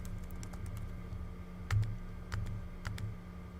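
Keys tapped on a computer keyboard while a username is entered, a few scattered clicks over a steady low hum, with a slightly louder burst of keystrokes near the middle.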